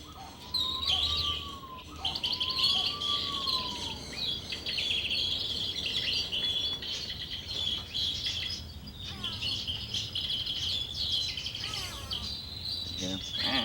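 Birds chirp and whistle in an aviary at Discovery Cove, with a lady Ross's turaco perched in a tree nearby, giving a steady layer of high, busy calls and a few clear rising whistles near the start.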